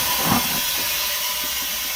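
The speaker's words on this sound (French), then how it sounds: "J'ouvre la porte avant ici." The pneumatic front door of an Irisbus Récréo II bus releases a loud, continuous hiss of air with a short burst at the start, close by and with no talk.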